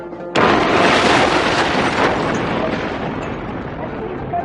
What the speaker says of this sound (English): The explosion shocked every sense in his system, turning him deaf and smoke-blind